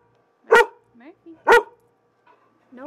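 A dog barks loudly and close by, three sharp single barks spaced about a second apart, with small whines and yips between them, in a home with a door left open.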